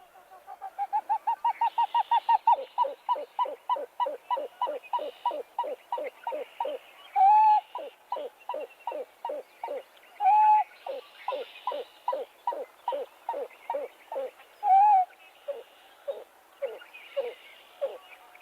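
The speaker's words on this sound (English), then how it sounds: "Let's play the owl hoop call one more time." Owl hoot calls in a marsh setting build from a rapid run of short hoots into a long steady series, broken by a few louder, longer excited hoops, clear and fairly close with no talk.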